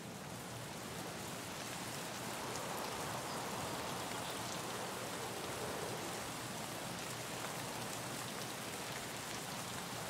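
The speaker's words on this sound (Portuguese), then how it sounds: "mas jogar Tarkov na chuva, hein?" Steady rain in the video game Escape from Tarkov, an even, continuous hiss of falling drops across the whole stretch, moderately loud with no talk over it.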